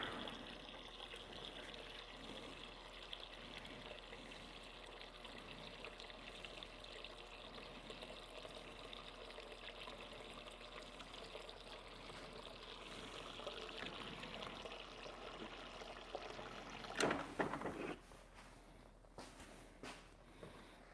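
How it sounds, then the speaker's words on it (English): Water poured steadily into a gallon jug of tea, a faint continuous trickle and splash, with a brief clatter near the end. "Now, top this gallon of tea off with water."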